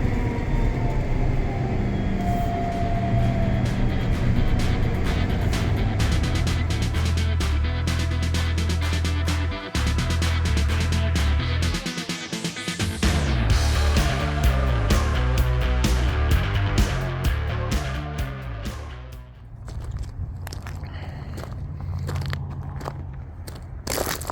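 A brand new riding lawn mower drives along a road with a steady engine drone, joined by crunching and rattling under the wheels, loud and continuous with a brief dip near the end.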